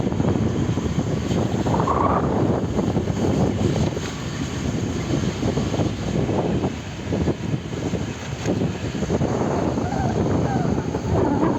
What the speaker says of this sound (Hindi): वहाँ पे रहा हेलीकॉप्टर, आज सुबह सुबह ही हेलीकॉप्टर भी चल रहे हैं।